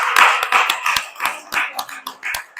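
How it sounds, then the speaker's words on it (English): Scattered hand claps from an audience honoring coaches at a fireside chat event, uneven and fairly close, building in short bursts over a couple of seconds. "Let's give them a round of applause."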